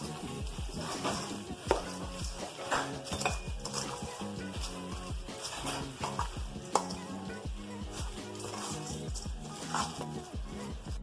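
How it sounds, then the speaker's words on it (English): Panko breadcrumbs being mixed into a vegan pea burger mixture in a bowl, with repeated soft thumping and scraping strokes over faint background music. "Japanese style breadcrumbs called panko crumbs that I'm going to add to the mixture. So we just put a little bit on top and then we mix that in."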